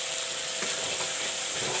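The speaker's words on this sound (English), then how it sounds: "Let all the masalas fry a bit." Ground spice masalas, chili powder and cumin powder, fry in a hot pan with a steady, close, even sizzle and hiss throughout, with no voices.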